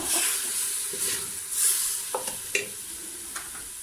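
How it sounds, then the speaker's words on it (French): A spoon stirs cumin into harira soup in a pot over medium heat, with a steady close sizzle and hiss and a few soft scrapes against the pot. "On va venir mélanger. On reste sur un feu moyen"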